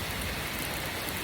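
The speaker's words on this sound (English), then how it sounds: "It's good to see the rain." Rain falling on a stone back porch: a steady, even hiss of dense droplets, fairly close, with no talk over it.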